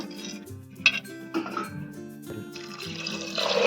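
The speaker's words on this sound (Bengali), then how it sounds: "আমি পরিমাণ মতন জল দেব। 1 মগের একটু কম জল দিয়েছি।" Water is poured from a mug into a pressure cooker holding mixed lentils for panch mishali dal. Clinks of metal come first, then a steady rushing pour builds louder toward the end.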